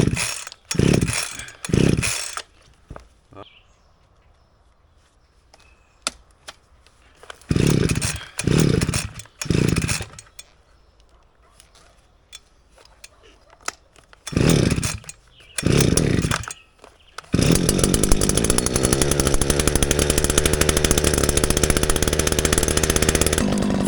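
A gas string trimmer brush cutter being started with choke set: repeated pull-cord bursts that sputter and die, then the small two-stroke engine catches and runs loud and steady up close.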